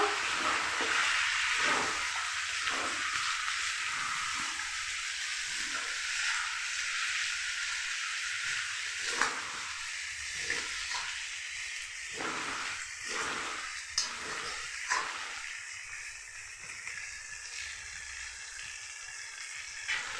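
A dish with a little rose water sizzles as it is sautéed in a pan, a steady close hiss broken by repeated scraping stirs of a spatula, with no talking.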